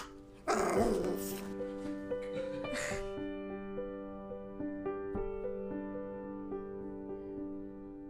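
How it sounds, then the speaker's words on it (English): A dog gives a short bark and a yip near the start, then a second brief yelp, over a sustained musical tone that carries on alone. "It's my dog."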